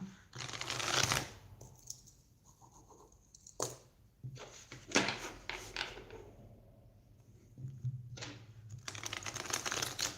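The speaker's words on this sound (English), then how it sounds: "So shuffle that a little bit more" Tarot cards being shuffled in bursts of papery riffling and sliding, with quieter pauses of handling between them; close and fairly soft.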